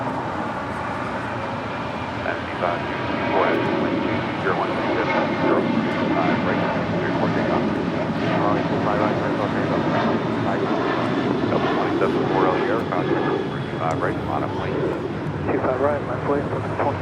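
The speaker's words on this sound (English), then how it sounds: "Next departure is Delta Airlines flight 1115 heading to New Orleans on a 737-800." A Delta Boeing 737-800 roars steadily through its takeoff at Los Angeles International Airport, the jet engine noise sustained and fairly distant, with a voice talking over it.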